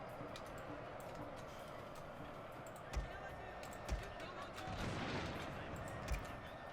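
Mortar fire in the Shogun 2 Total War game sounds as a few dull distant thumps spaced about a second apart, followed by a low rumbling swell, all over a steady background hum.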